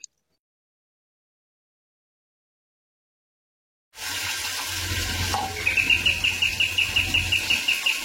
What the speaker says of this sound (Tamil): இப்போ தண்ணி வந்து டேங்கில் விழுந்துட்டுருக்கு.